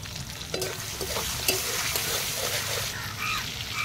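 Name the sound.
tomato and chopped garlic frying in mustard oil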